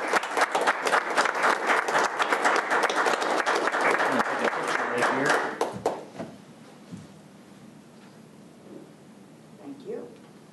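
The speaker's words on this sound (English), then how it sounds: "Let's give this young man a round of applause" Sustained clapping from the audience at a county commissioners' public meeting, dense and loud for several seconds before tapering off into room noise and a few scattered sounds.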